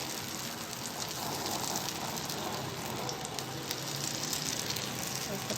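Egg paratha batter sizzles on a very hot tawa, a faint, steady crackling hiss that carries evenly throughout, quiet and close.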